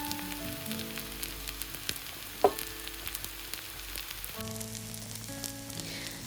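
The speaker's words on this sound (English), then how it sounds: "Start by sauteing your mushrooms." Mushrooms sauté in oil in a pan over medium heat, giving a faint, steady sizzle with scattered light crackles and one sharper knock partway through, under a low background tone.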